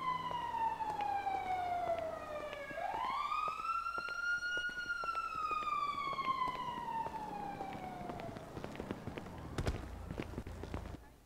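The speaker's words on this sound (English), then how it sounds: "Where the fuck is that siren coming from?" A wailing siren inside the horror video game Phasmophobia, rising and falling in one long sweep that stays steady and moderately loud, with faint background noise and no speech over it.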